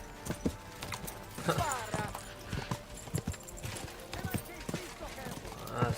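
Hooves clip-clop in a fast galloping rhythm as a horse runs in the medieval video game Kingdom Come: Deliverance, the beats steady and fairly close over a low game ambience, with voices in the background.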